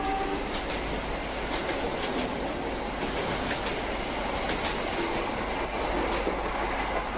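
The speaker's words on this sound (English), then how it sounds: "See the frequency of the sound coming from the train." A passing train roars loudly and continuously, with rattling wheels on rails and a broad, steady wash of noise that barely changes level across the whole stretch.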